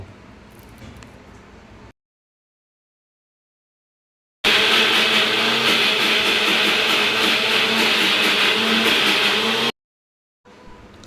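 A kitchen mixer grinding mango with a little sugar and water into paste, a loud, steady whirring roar running for about five seconds between silent gaps, with quieter handling noise before and after.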